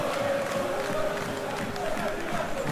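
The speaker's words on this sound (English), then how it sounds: "that hasn't affected the crowd who are here in good number and indeed in good voice" Stadium crowd noise in a PES football match between Fiorentina and Atalanta, a steady roar of a large crowd in good voice running throughout beneath a commentator talking.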